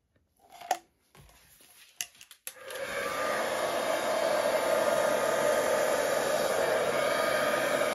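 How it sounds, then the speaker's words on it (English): A hairdryer blows across pearl white acrylic paint in a Dutch pour, starting after a few brief clicks and handling sounds, then running as a loud, steady, continuous whoosh right up to the end. "blow that out with my hairdryer for the base."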